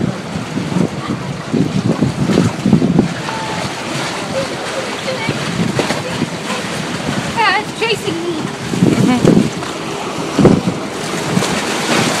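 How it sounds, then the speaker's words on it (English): A boat engine hums steadily over wind and lapping water, with surf sounds and occasional talk nearby, on shallowing water during a Fourth of July outing. "Oh, and this boat, too, is coming."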